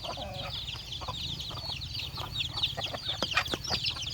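Chickens on a Filipino backyard farm in the rain, clucking and chattering steadily at close range with a few sharp calls and a rooster's voice among them over a low background rumble, no talk.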